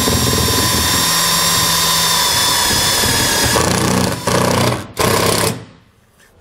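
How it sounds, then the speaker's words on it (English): A power drill drives a self-tapping screw into a wall stud, with a loud continuous whirring that runs for several seconds, then breaks into short bursts and stops, heard up close with no talking. "for where I go into the studs here, I'm going to use a self-tapping screw."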